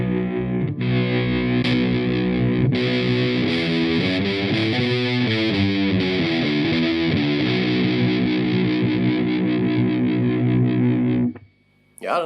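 An electric guitar runs through a pitch shifter set to shift up, placed in the amp's effects loop, playing a loud distorted riff with chorus-like doubled tone for about eleven seconds before cutting off.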